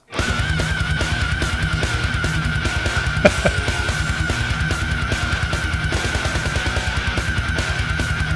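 Loud power metal track 10,000 Strong by Iced Earth, from Framing Armageddon with Tim Ripper Owens on vocals, drives along with rapid double-kick drumming, chugging guitars and a sustained high tone throughout.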